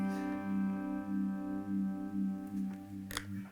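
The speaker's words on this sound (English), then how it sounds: "So this is a clone of an old pedal called a Univibe." Electric guitar fed through a Univibe-clone modulation pedal, a sustained clean chord swirling with a slow, pulsing wobble at moderate volume, a brief pick scrape near the end.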